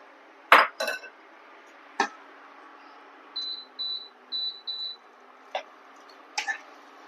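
Fried mourola fish go back into a pan and a lid is set on, heard as close metallic clinks and clatters of utensils and the lid, with a few short high beeps in between.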